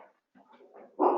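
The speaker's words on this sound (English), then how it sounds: "Sorry about the dog" A dog indoors lets out a few soft, brief whimpers, then a sudden louder bark at the end, close by with no talk over it.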